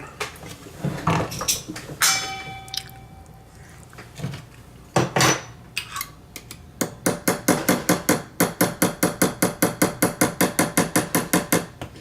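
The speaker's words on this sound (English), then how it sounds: "So I'm just going to slowly start to hammer this metal around." Small metal hammer taps on a bezel around a garnet in a jewelry setting, scattered at first, then a fast, even run of sharp ringing strikes on metal, close and clear.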